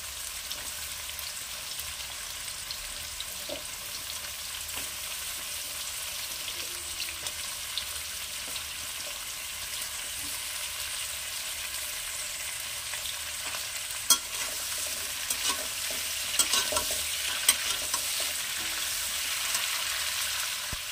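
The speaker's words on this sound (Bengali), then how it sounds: "শিমটাও আমি কুমড়োর সাথে একসাথে ভেজে নেব।" Pumpkin and flat beans fry together in a pan with a steady, close sizzle and occasional stirring clicks throughout, no talking.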